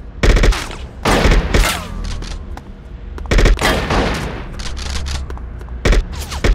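Fully automatic assault rifle fire in the video game Bad Boys 2: Miami Takedown comes in loud, close bursts with heavy booming thuds, repeating in rapid volleys over several seconds.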